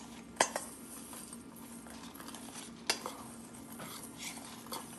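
A spoon stirs flour into nuts in a bowl, giving soft scraping with a few sharp clinks against the dish, close and quiet, with no voices.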